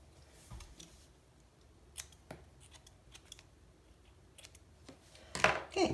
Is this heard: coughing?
no